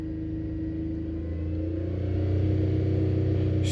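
Car engine held at raised revs with a spark-plug misfire, a steady low rumbling drone that climbs slightly in pitch and loudness partway through, close by and with no talk.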